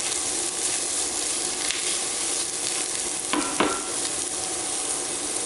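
Carrots sizzling and frying in a pan, a steady bright hiss with a couple of sharp scraping clinks from stirring partway through.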